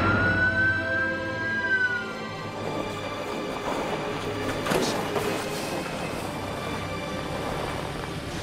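An ambulance siren wails once in a rising and falling tone at the start, then fades into a rumbling mix of traffic and engine noise without any talking.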